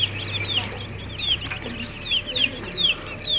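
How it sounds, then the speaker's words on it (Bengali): Fancy chickens on a farm clucking as they eat feed, repeated close chirpy clucks and squawks over a low hum of background noise, no voices. "আর এখানে হইলো আমার ফেন্সি মুরগিগুলোকে খাবার দিছি, দেখাই আপনাদের। এই দেখেন খাবার খাইতেছে,"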